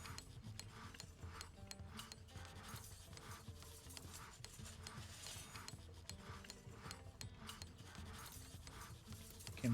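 Rock is drilled in the video game Dwarfheim, giving a continuous grinding, rasping rumble with a rhythmic churning pulse. It plays steadily at moderate level with no talk.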